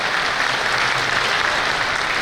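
Audience clapping steadily at a community gathering, a Kutch Meena society get-together and biennial convention, with continuous dense applause throughout and no pause.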